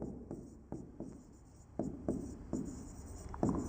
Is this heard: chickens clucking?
no